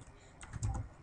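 Computer keyboard keys clacking as a command is typed, a short burst of several quick, close, fairly quiet keystrokes with no talking.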